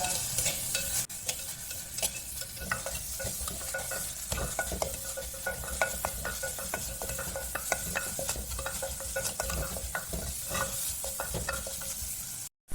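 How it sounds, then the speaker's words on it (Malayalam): Food being lightly sautéed in a pan gives a steady close sizzle with frequent scraping stirs and clinks throughout, no talking. "ചെറുങ്ങനെ ഒന്ന് വാട്ടുക."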